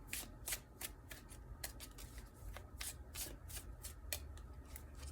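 Tarot cards shuffled and handled in a quiet room, a steady run of soft riffling flicks and brisk rubbing strokes over a faint low hum, with no voice during the shuffle.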